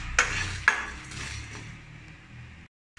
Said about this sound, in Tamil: இதெல்லாம் ட்ரை ரோஸ்ட் பண்ணி நம்ம கொஞ்சம் நேரத்தில் எடுத்துடலாம்